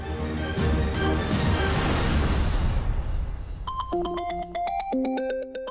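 A loud rushing noise fades out, then a phone ringtone starts playing a bright, repeating electronic melody.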